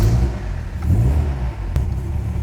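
A Ford Sierra RS Cosworth engine runs and revs in a steady, loud low rumble, swelling twice as the throttle blips, with one sharp click midway.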